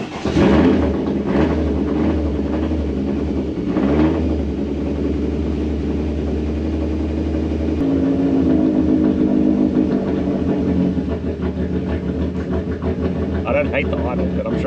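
A turbocharged Toyota Camry engine idles with a choppy, uneven lope, a steady low rumble that keeps going throughout, with a slight shift in pitch partway through.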